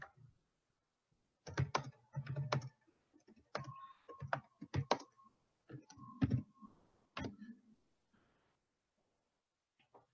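Typing on a computer keyboard comes through as bursts of close, crisp key clicks in uneven runs, separated by short pauses and trailing off into near silence.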